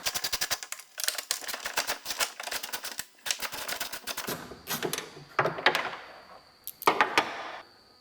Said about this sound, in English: taking our 10mm, put it down in here, and loosen those 2 nuts